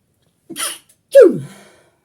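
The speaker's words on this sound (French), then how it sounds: "Atchoum, atchoum, atchoum, atchoum." Two close, loud sneezes in quick succession, a short breathy burst followed by a stronger explosive one that trails off, with no talking.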